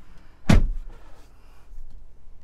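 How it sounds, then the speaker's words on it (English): A single solid car door slam on a 2024 Ford Bronco Wildtrak, close and loud, with a short thud followed by quiet interior noise. "Let me shut the door here."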